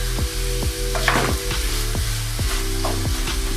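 Beef lasagna ingredients frying in oil in a pan, a steady close sizzle with bursts of stirring scrapes and a low rhythmic pulsing underneath.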